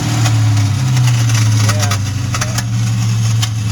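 A 2001 Mustang GT Bullitt engine runs with a horrific mechanical noise while idling. A loud low rumble carries a tonal drone and repeated sharp ticking bursts, and a person briefly speaks over it.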